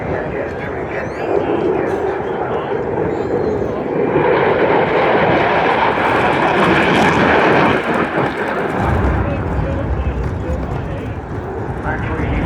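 A Eurofighter Typhoon jet pulls a max-rate turn at an airshow on the Riviera, its loud engine roar swelling and fading as it passes, with an announcer talking over it.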